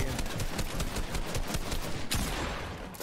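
Rapid gunshots ring out in the video game Fortnite, a dense stream of sharp cracks in quick succession at steady volume with a brief gap near the end.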